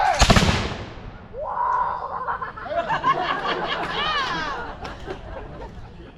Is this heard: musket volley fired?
yes